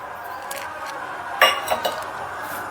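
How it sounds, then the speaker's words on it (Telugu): Salt being stirred into vegetable rice in a cooking pot, heard as a few light metallic clinks and one louder clatter of a spoon against the pot, with soft shuffling in between. "కొంచెం ఉప్పు కలుపుతున్నానండి."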